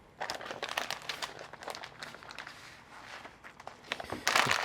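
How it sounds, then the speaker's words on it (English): Butcher paper crinkles and rustles up close as it is folded tightly around a cooked apple cider and bourbon pork butt, with bursts of crackling, a steady stretch of handling noise and a louder crunch at the end. "just wrap it up as tightly as we can in this butcher paper"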